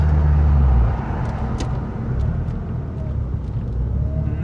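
A Mazda RX-8 rotary engine on a Haltech R3 ECU runs roughly right after a misfire, hovering near stalling: a loud, close, uneven low drone that drops slightly after the first second.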